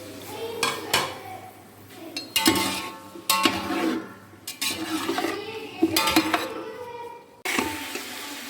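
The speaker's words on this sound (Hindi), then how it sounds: "अब हम इसमें मटन ऐड करके इसको फ्राई करेंगे" Mutton fries with golden-brown onions in a metal pot, with loud repeated stirring clatters and scrapes against the pot over a background sizzle, close and without talk.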